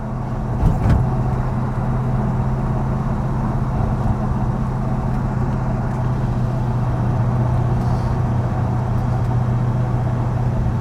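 An Ultima RS sports car drives along with its engine running, a steady, loud low drone and rumble throughout, with no talk.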